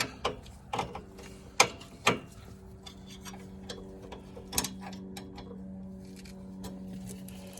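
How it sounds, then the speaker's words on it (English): A box-end wrench tightens the nut on a budget coilover for a GR86/BRZ, giving several sharp metallic clicks and knocks in the first few seconds before a steady low hum with a few fainter ticks. "use the wrench to actually tighten it"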